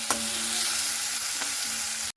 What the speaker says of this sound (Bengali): এবারে লবণটাকে দিয়ে এইভাবে খুব সুন্দর করে নাড়াচাড়া করে নিচ্ছি